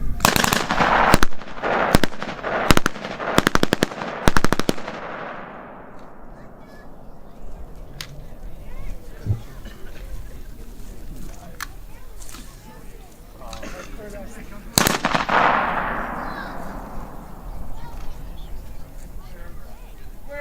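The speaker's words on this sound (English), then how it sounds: "Shooters, you may commence shooting." Korean War-era weapons fire on a live firing range in rapid bursts of loud, close shots, then a pause with ambient noise before another burst and echoing reports, while people speak on the line.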